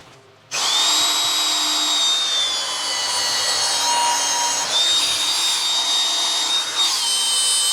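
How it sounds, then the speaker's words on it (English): A power drill boring holes in metal during fabrication of a roller skid, starting abruptly and running loud and steady with a high whine for several seconds, with a slight dip midway. "the depth of cut on the bits for this drill"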